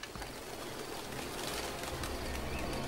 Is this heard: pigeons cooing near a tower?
yes